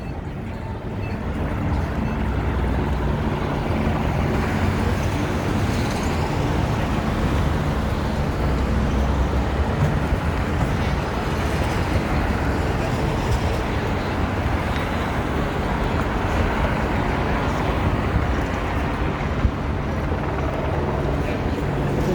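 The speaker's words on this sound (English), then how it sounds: "You can hear helicopters, cars, pedestrians. You can hear all kinds of sounds here." City traffic flows along Michigan Avenue in downtown Chicago at night, a continuous dense roar of passing cars with distant helicopter and pedestrian noise, steady throughout.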